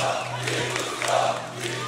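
An arena crowd at a DreamHack Open Counter-Strike esports final in Bucharest cheers and roars continuously, loud and dense, with some speech mixed in.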